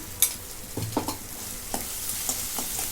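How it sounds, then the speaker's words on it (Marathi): A spatula stirs and scrapes a thick ground paste of garlic, coconut and coriander around a pan in several irregular strokes, with a faint sizzle underneath, close by. "आणि हे पण परतून घेते"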